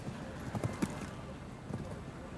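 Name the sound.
horse hooves clip-clopping at show jumping championship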